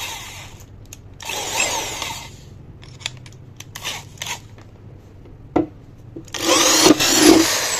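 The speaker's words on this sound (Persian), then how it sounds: "و اما دریل سه نظام 10 مخصوص کارای سوراخ‌کاری" A 10 mm keyless-chuck electric drill whirs in short bursts while drilling, starting and stopping repeatedly, with louder sustained runs at the start and end, close by and alone.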